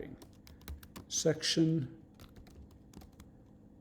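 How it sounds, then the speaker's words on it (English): Someone types on a computer keyboard, a steady run of light key clicks with a short spoken word in the middle. "now I'm going to type a little text and a formula"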